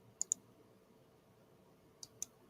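A computer mouse clicks an on-screen lightning bolt button in the APBA GO baseball dice simulation, two quick double-clicks separated by a pause, crisp and close against faint room noise.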